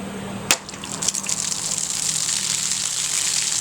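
A Hogue EX-F02 tactical knife slices through a large plastic detergent bottle with one sharp crack at the cut, a few small clatters, then a steady hissing rush of liquid or noise behind.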